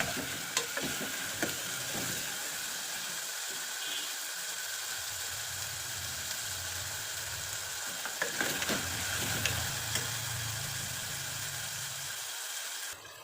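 Masala being stirred and fried in oil in a pan: a steady, fairly quiet sizzle with scraping stir strokes at intervals, heard alone without talk.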